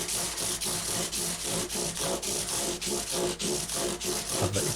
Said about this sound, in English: I do that all with my little bull-nosed scrub block.